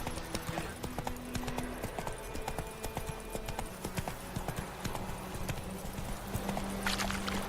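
Horse hooves clip-clopping at a fast, steady rhythm in The Witcher 3, close and continuous, with brief faint voices mixed in.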